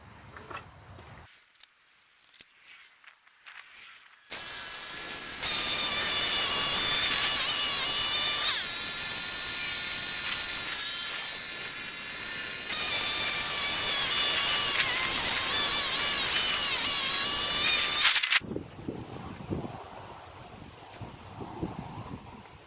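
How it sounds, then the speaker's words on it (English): Woodland Mills sawmill blade cutting through a 12-foot, 22-inch-diameter log outdoors, a loud sustained whining buzz in two long passes with a brief dip between, framed by quieter handling noise and wind before and after. "It's cutting the log, and I'm going to get a heck of a lot of wood out of this one."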